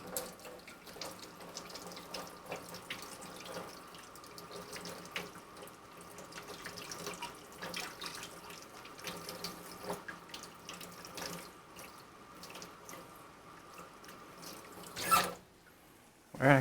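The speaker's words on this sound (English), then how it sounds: "Then I'll wash these off." Mushrooms washed under a running kitchen faucet, a steady hiss of tap water splashing into a sink that continues for most of the stretch before cutting off near the end.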